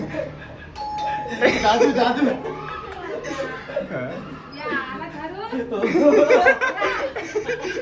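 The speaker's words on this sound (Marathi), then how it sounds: "परत दाब बेल दाब" A house doorbell chimes, ringing out clearly while several people chatter and laugh nearby during Diwali-time visiting.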